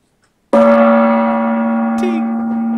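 A single gong struck once, a sharp attack followed by a loud, ringing sustained tone that slowly decays, with a faint brief bright sound partway through the ring.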